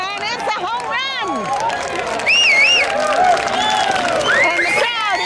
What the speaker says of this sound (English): And the crowd is going mad.